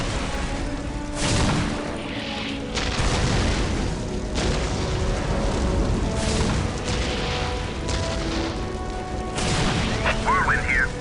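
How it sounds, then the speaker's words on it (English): Whirlwind artillery tank in Warhammer 40,000: Dawn of War launching its missile battery, a run of heavy booming launches and crashing blasts that repeat every second or two over a constant battle din, with voices speaking at times. "Preparing whirlwind missile battery to fire."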